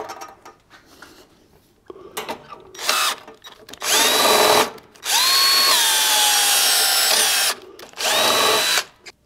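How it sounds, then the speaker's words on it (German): A power drill whines in several bursts, revving up and grinding into a small metal lock, with short pauses and small clicks between runs. "natürlich nicht zu weit bohren in der Platine"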